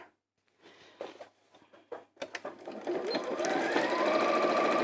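Quiet handling noises and brief taps give way to a sewing machine stitching fabric pieces right sides together, building into a steady close whir.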